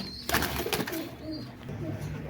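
Teddy pigeons of Oman, 128 and KTM bloodlines coo nearby, with a sharp rustle or wing flap near the start followed by soft, rolling throaty calls.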